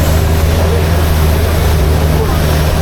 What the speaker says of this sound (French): s'il n'y avait pas cette multitude de bateaux qui fait du bruit